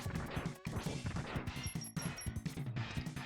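In the video game Mega Man X2, Giga Crush smashes a tank, heard as a dense, loud series of crashing impacts and explosions with a few brief gaps, and high electronic beeps in the middle.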